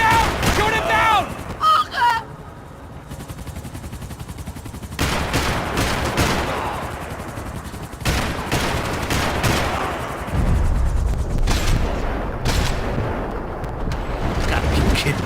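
Heavy gunfire and explosive blasts from the Max Payne 3 shooter game, loud bursts and rattling volleys during a chase, with shouting in-game voices in between.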